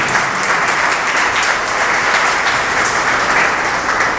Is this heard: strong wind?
no